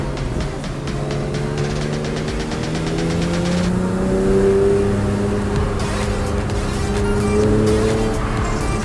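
A BMW fitted with an OEM-plus exhaust revs and accelerates, the exhaust note rising steadily and growing louder through the higher revs, with a raspy, droning tone close by and no talking.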